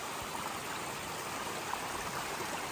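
Storm water pours out of a pond corner in a steady, even rush of noise, faint and unbroken, with no voices.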